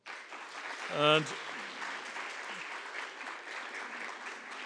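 Steady, sustained applause from a seated audience fills a commencement ceremony hall, with no clear peaks. A single spoken word briefly rises above the clapping near the start.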